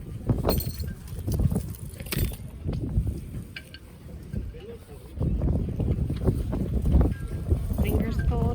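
Wind gusts across an outdoor flea market on a cold day, rumbling and buffeting the microphone in uneven surges that swell louder near the end, with people talking nearby.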